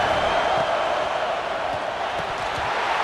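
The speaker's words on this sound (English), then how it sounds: "This dog crowd is off the leash, and they are coming after them, bringing noise on 3rd down." Stadium crowd at a football game against GT roaring on third down, a dense, steady wall of distant cheering and noise with no breaks.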